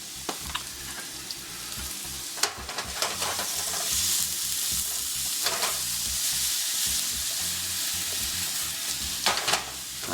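Chopped onion sizzles steadily in a hot pan while a utensil stirs and scrapes it, with occasional louder clacks against the pan and no talking.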